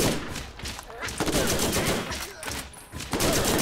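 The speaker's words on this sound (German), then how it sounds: "Ich stell das Geschütz auf." A deployed turret in the shooter Borderlands firing rapid, continuous bursts of gunfire amid the clatter of combat, loud and close, with faint voices mixed in.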